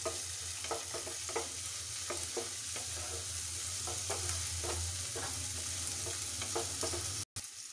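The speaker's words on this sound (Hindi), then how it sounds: "इनको तब तक चलाते रहना है जब तक ये हमारे टमाटर स्मूथ ना हो जाए" Tomatoes being stirred in a frying pan until smooth for a fasting-day potato chaat: steady close sizzle with a regular series of spatula scrapes, a brief dropout near the end, no voices.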